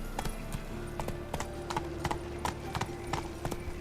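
Horse hooves clip-clopping at a steady gallop in The Witcher 3, sharp repeated strikes over a constant low ambient drone, with a brief snort-like sound.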